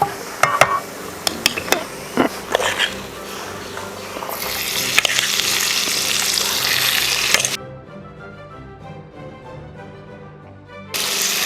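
Shrimp mixture drops into a pan of frying coconut pieces: a few utensil clinks first, then a loud, close, sustained sizzle that cuts out briefly and flares up again at the end.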